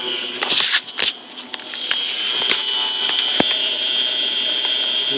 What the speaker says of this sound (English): Here's the Air Motive Stealth 340 liter per hour fuel pump hotwired with a homebrew kit. Not loud at all compared to the Walbro.